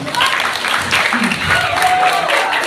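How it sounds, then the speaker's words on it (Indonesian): Applause from the audience at an elementary school farewell ceremony for sixth graders, steady broadband clapping at moderate volume that runs for the whole short span, with faint voices mixed in. "Ini mau tepuk tangan."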